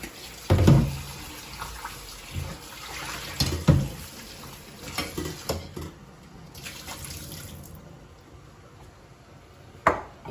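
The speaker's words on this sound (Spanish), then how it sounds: "Ahora voy a enjuagar la yuca." Yuca is rinsed under a running kitchen tap, with a steady splash of water broken by a few dull knocks and thumps as the pieces are handled in the sink, and no voices.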